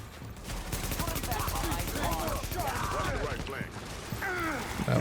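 Video game gunfire, a dense, continuous rattle of rapid shots running through the whole stretch, with a voice talking over it.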